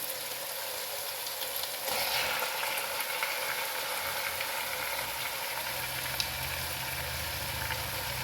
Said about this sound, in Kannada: ಇವಾಗ ನಾನು ಮ್ಯಾಗ್ನೇಟ್ ಮಾಡಿರೋಂಥ ಚಿಕನನ್ನು ನಾನು ಇದರೊಳಗಡೆ ಹಾಕ್ತಾಯಿದ್ದೀನಿ